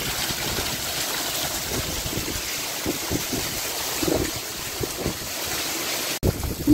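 Heavy monsoon downpour pours across open village farm fields, a steady broadband roar with gusty wind buffeting the microphone and brief louder surges, with no voices.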